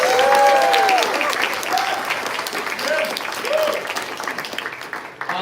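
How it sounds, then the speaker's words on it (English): A convention panel audience breaks into loud applause that gradually thins and fades, with a few scattered voices calling out over the clapping. "Big round of applause."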